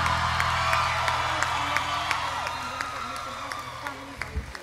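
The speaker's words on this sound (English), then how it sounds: "Give her a round of applause." A festival crowd at an Eritrean community event applauds and cheers as Tiffany Haddish receives an award, with whoops and clapping under a voice speaking over a sound system, the noise easing slightly toward the end.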